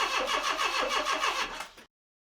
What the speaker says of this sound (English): To test this, all I need to do is wedge open the throttle while cranking.